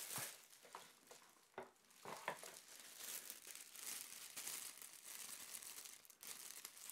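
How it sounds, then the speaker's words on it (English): A clear plastic bag is slid off a boxed Rayner table lamp, giving close, continuous crinkling and rustling with a few sharper crackles, faint and steady throughout with no talking. "it is packaged in a clear plastic bag. Let's go ahead and slide the bag off."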